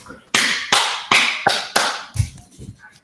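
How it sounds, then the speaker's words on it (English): Applause at a virtual live history museum event, heard as a handful of sharp, evenly spaced hand claps close to the microphone, fading into softer sounds at the end. "Let's give her a round of applause."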